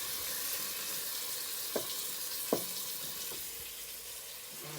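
Lard frying in a pot on a home kitchen stove, giving a steady, close hiss of sizzling fat with a few sharp clinks of a utensil against the pot and no talking.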